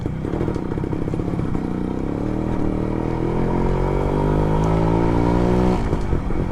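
A Suzuki Max 100R motorcycle's small engine drones continuously while riding, its pitch climbing steadily as it accelerates, close and loud with no talk.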